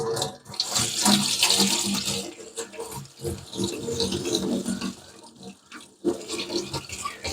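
Running tap water at a kitchen sink rinses tomato seeds held in a conical sieve, a loud, continuous splashing hiss that rises and dips, with faint voice murmurs underneath.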